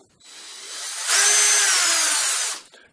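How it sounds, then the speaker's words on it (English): A cordless 13mm drill with a variable-speed trigger whirs steadily close by, then jumps to a louder, higher speed about a third of the way in before cutting off, with no voices. "The drill has variable speed on the trigger."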